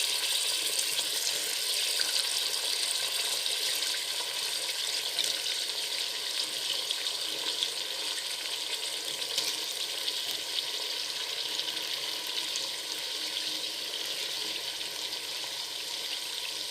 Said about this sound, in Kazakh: Осылай су құйып алып, жақсылап жуып қазанымызға жайлап саламыз.